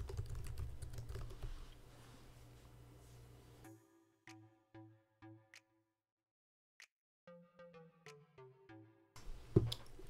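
A password is typed on a computer keyboard while installing iTunes on macOS Catalina, a short run of soft, close key clicks in a quiet room after some background noise.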